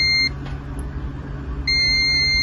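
A multimeter continuity buzzer sounds while an air-conditioner compressor is tested for a short. Two loud, steady high-pitched beeps play, one at the start and a longer one at the end, with a quieter gap between them and no speech.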